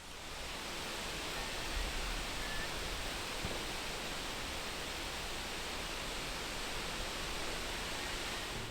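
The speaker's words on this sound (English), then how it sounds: "here's the sound of some wind through what I think are silver birches" Wind rushes through silver birch trees in a steady, broad hiss of rustling leaves, soft and even for the whole stretch with no other sounds.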